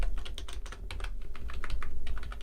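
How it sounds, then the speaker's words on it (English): Rapid, uneven clatter of keys on a computer keyboard, fixing typed text while coding, close and fairly loud with no speech. "let me fix my typing here"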